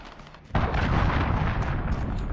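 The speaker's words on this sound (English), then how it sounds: "Allied cruise missile launched" A cruise missile strike in Call of Duty: Modern Warfare lands with a sudden loud boom after a quiet moment, followed by a sustained heavy rumbling roar of explosions.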